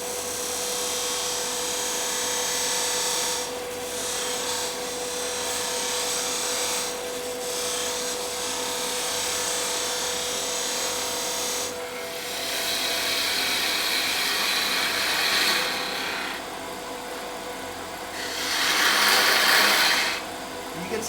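A lathe turns a wooden bat blank while a hand tool cuts it using an inside-out turning technique. A steady motor hum with a faint tonal whine runs throughout, and bursts of scraping, hissing cutting noise swell and fade, loudest near the end.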